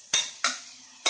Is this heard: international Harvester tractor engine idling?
no